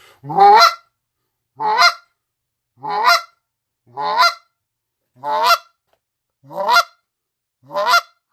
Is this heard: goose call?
yes